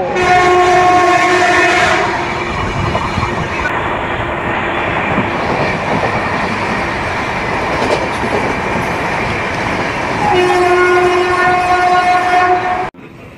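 A moving Bhubaneswar-Rameswaram weekly express train rumbles loud and steady throughout, with sustained horn-like harmonic tones near the start and again near the end, and no voices.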